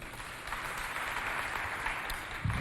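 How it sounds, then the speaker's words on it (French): Audience applause for two competing teams at a youth quiz contest at a cultural centre, a soft, distant patter of clapping that stays level throughout, with a brief thump near the end. "j'aimerais que vous applaudissiez pour les deux équipes"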